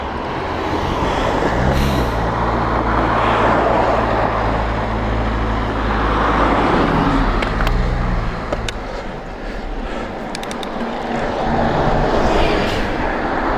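Cars and larger vehicles pass on a Cornish country road near Calstock during a bike ride, with a loud rumbling engine drone, air rushing past, and brief squealing brake-like tones as vehicles go by close.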